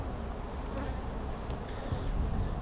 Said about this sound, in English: Beautiful box of bees down there.